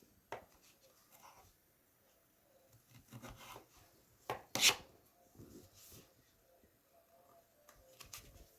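A knife slices food on a cutting board while preparing cold spaghetti chicken salad, giving a few scattered, quiet cuts and scrapes, with one sharper chop standing out near the middle.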